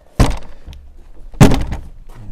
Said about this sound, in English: I'll open this door and then go around the other side.